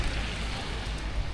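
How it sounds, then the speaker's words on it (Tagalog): Steady rain falls outdoors in Morocco, a dense, even hiss of drops with a low rumble beneath, continuous and fairly close, with no voices. "Kasi nga umuulan."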